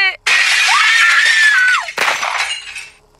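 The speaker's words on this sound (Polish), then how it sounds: "Szyba zaraz się rozbije." A window's glass pane shatters with a sudden loud crash and trailing tinkle of falling shards, right after a long, loud high-pitched scream.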